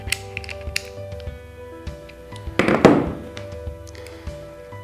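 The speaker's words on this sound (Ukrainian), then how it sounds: "Для зручності скористаємося головкою 14. Затягуємо гвинт." A 14 mm socket tightens the screw on Felco 5 pruning shears, producing scattered metallic taps and clicks, then a louder ratcheting, grinding creak near the middle, with no speech.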